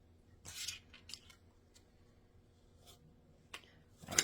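Scissors snipping through fruit for a wild blueberry cranberry sauce, a few short crisp cuts in quick irregular bursts, close and fairly quiet with no talking.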